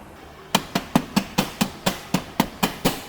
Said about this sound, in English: get your dead blow hammer, and then just lightly tap on the header